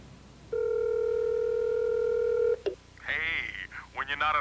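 A steady telephone dial tone hums for about two seconds, ends in a sharp click, then muffled, garbled voice-like sounds follow.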